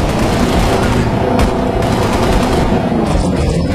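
Rapid machine gun fire from a small gun in Halo: Reach, loud and continuous through a dense battle din of overlapping bursts and booms, no voice on top.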